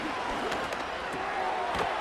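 Simulated stadium crowd in the Madden 26 American football video game, a steady, fairly faint roar of fans with scattered sharper peaks, with no speech over it.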